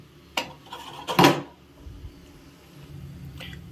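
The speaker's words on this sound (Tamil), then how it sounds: "ஒரு 5 மினிட்ஸ் வந்து மூடி வைக்கிறேன்" A lid goes onto a pot of horse gram rasam with a couple of sharp metallic clanks close by, followed by a quiet simmer-like background hum.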